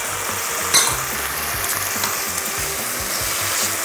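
Sake, light soy sauce and dashi hit a hot pasta pan of sakura shrimp and asparagus, giving a loud, dense, steady sizzle with one brief metallic clink near the start.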